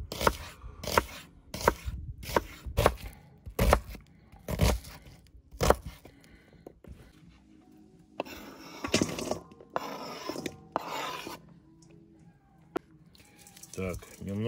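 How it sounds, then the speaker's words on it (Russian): A knife chops onion on a board for shashlik marinade, with a steady run of sharp, close thuds that grow sparser later, mixed with some scraping and rattling. "Нарежем лук для маринада."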